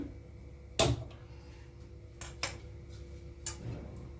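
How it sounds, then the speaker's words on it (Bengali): A kadai set down on a kitchen stove, giving a sharp metallic clank followed by two softer clinks of metal cookware, close and otherwise quiet. "কড়াই বসিয়ে দিলাম।"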